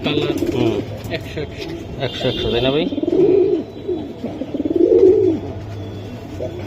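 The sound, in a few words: Beji pigeons cooing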